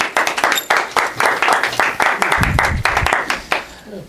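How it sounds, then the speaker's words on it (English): An audience claps for a magic trick performed by The Amazing Timothy Carver, a close, steady burst of applause with dense, uneven claps lasting several seconds and no voices. "Give them a round of applause."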